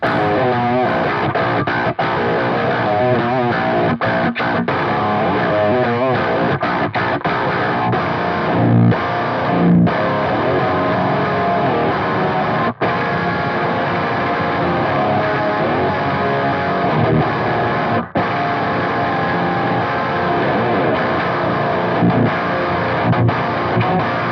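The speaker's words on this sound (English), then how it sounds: "this is a 85M lead cap mod." A heavily distorted electric guitar through a Headrush MX5 amp modeler on an 85M lead cap mod preset plays dense, saturated riffs and sustained chords, loud and continuous with no talking.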